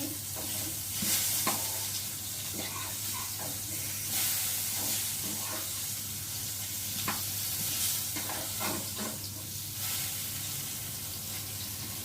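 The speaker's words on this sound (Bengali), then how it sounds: "দেখো আমি এখন ভাজা বসিয়েছি বেগুন ভাজা" Eggplant slices sizzle steadily in a pan, a soft continuous frying hiss with scattered light pops and occasional utensil taps, fairly quiet.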